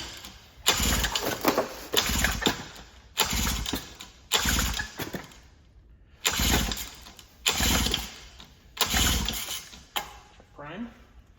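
An old 7.5 HP Mercury outboard motor, unrun for decades, is pull-started over and over: about seven short bursts of rough cranking, each cut off by a pause, close and fairly loud.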